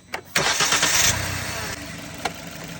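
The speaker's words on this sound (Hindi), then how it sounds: "कीजिए क्रैंकी कीजिए, स्टार्ट कीजिए गाड़ी।" A Maruti Suzuki Swift car engine cranks and fires up after coolant was topped up, a short starter whir followed by the engine catching and settling into a steady close idle, with no talking over it.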